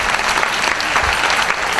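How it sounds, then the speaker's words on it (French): An audience at a comedy show applauds steadily, with dense, loud clapping throughout. "Je vous demande de les applaudir"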